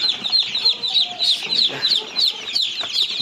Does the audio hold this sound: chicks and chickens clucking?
yes